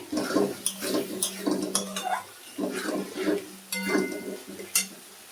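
Spice paste fries in refined white oil for a chicken leg curry, bursts of spatula scraping against the pan over a low sizzle, close and without speech.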